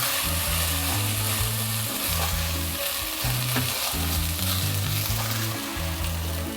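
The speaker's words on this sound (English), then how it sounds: "all I do now is just for some time I'll just keep stirring this" Rice frying in a pan while being stirred steadily, with a constant loud sizzle and repeated scraping strokes under a low tonal hum from nearby music.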